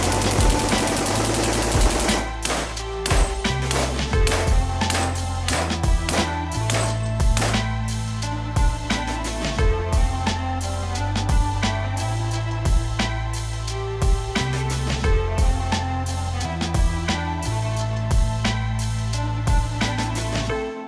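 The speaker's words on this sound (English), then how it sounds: "As you saw, the gun runs perfectly fine." A B&T APC556 PDW fires a long run of sharp shots in irregular rapid bursts over a steady low rumble, opening with a dense wash of noise.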